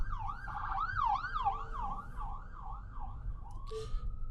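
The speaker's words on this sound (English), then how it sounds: "FSD did not pull over for ambulance, emergency vehicle." An ambulance siren wails past a Tesla driving on FSD 12.4.1, its steady rising and falling cycles heard over road hum, then fading with a brief horn-like blip near the end.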